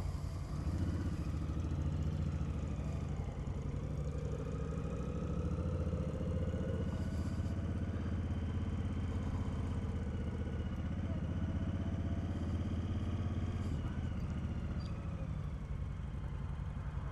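A motorcycle engine idles steadily before a ride, a low continuous rumble with a light mechanical clatter that stays constant throughout, heard close by with no talking.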